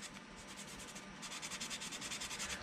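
180-grit sandpaper rubbed by hand over the hull of a 1:350 scale Polar Lights TOS Enterprise model starship, giving a steady close scratchy rasp that grows louder and more rhythmic in quick back-and-forth strokes.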